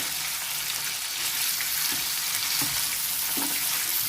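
Capsicum frying in a pan for a vegetable curry, a steady bright sizzle that runs continuously, with a few soft stirring knocks of a spoon partway through and no talking.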